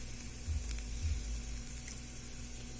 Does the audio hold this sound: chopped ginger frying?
yes